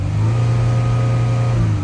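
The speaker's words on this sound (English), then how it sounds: "I'm gonna rev that up just so you guys can see." A Dodge Durango engine, just repaired after a dead-pedal fault, runs in a steady, loud, close drone as the throttle is held up, with no talk over it.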